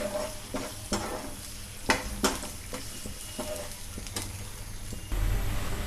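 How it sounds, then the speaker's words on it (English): Onions frying in a pan with ginger garlic paste for an Indian mutton curry, a continuous close sizzle broken by scraping stirs and small clatters, getting louder near the end. "Like this we have to fry the onions."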